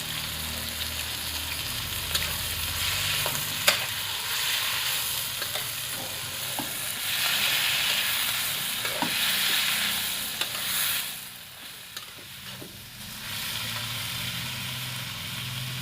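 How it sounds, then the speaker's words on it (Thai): Sliced cucumber is stir-fried in a pan with a splash of water, a continuous sizzle broken by repeated scraping and clicking strokes of a spatula, close and fairly loud throughout, with a brief quieter dip near the end. "ผัดพอแตงกวาสลดนะครับ"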